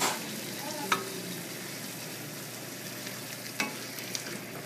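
Stock being stirred into shiitake and butternut squash risotto as it sizzles in the pan, a steady soft frying hiss with a couple of brief scraping clicks of the spoon, no talk.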